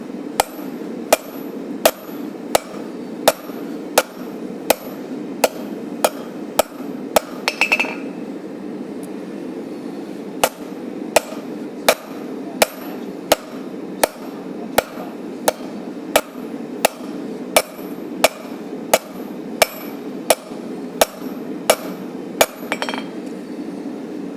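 Hammer peen strikes forging a railroad spike into a knife blade: sharp metallic clanks ring at a steady rhythm for about twenty seconds, close and loud, with a short pause partway through.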